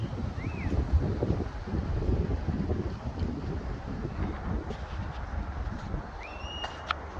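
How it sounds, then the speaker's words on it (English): Gusty wind roars and buffets the microphone throughout an autumn outing, a steady low rumble rising and falling, with a few faint high chirps near the end. "It's too windy, Ruby."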